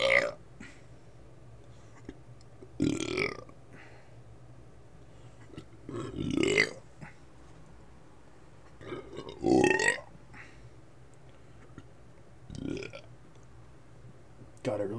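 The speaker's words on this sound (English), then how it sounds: "Gotta release the burps." Loud, deep burps come from a person drinking a gallon of beer, about five separate belches spaced a few seconds apart with quiet room noise between them.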